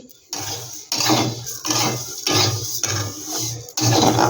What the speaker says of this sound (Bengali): আমি ডালটা ভেজে নিচ্ছি